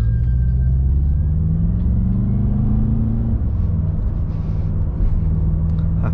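A BMW M5 F10 engine running steadily and close by, with a deep, even rumble and slight shifts in pitch, and no voices over it.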